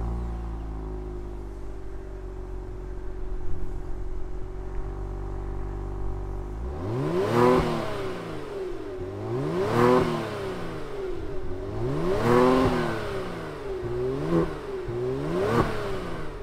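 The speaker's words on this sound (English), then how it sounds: "let's fire it up and see what this Genesis G70 sounds like." 2020 Genesis G70 sport sedan engine, heard first as a low steady hum, then firing up into a series of sharp revs that rise and fall about five times, loud and close with no talking.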